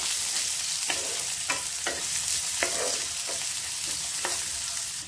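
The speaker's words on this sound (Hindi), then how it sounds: "अब इसमें डाल देंगे प्याज, जो कट करके लहसुन रखा था इसे भी इसी समय डालेंगे। इन सबको अच्छी तरह से भून लेंगे।" Onion and garlic frying in hot oil with cumin, stirred with a spoon in a pan; a steady sizzle runs throughout with several sharp scraping stir strokes at irregular intervals, close and alone.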